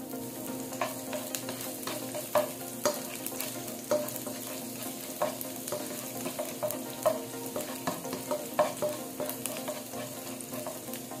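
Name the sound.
garlic frying in cooking oil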